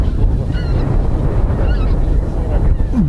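Wild geese in flocks pass over a goose-hunting field in Kazakhstan, giving scattered faint honks from far off over a steady wind rumble, with a louder call near the end.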